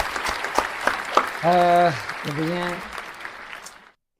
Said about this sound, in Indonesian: Tepuk tangan berikan aplaus untuk